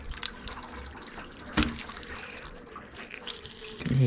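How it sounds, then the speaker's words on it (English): Water trickling and running out of the pipework of a thermostatic radiator valve being changed, a close, irregular dribble with small clunks and splashes. "Oh, you can hear water running out."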